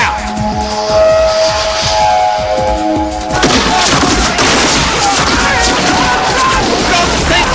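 A volley of gunfire in a radio drama about the 1843 Wairau Incident crackles as dense, continuous rattling shots and bangs close up, filling the whole stretch with no words spoken.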